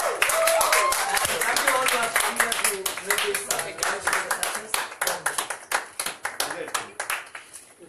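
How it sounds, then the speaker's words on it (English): A crowd at a press meet in Chennai gives a round of applause, dense clapping from many hands that starts full and loud, then thins into scattered claps with voices talking over it. "with a round of applause from you all, Nandhini,"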